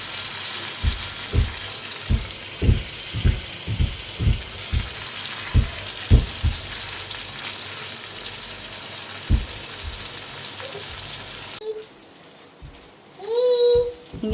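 Masala-coated fish frying in a pan, a dense close sizzle under a run of regular low thumps, before the hiss drops away near the end and a brief voice and clatter take over.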